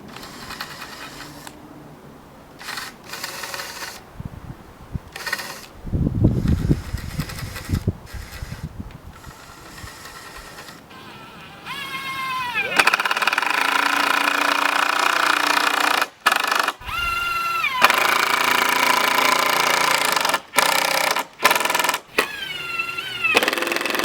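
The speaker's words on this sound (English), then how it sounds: "Gonna countersink a little bit." Power tool countersinking holes in deck boards, a steady whining drill-like tone running through most of the stretch with brief stops and restarts, louder and denser in the second half, with no talking.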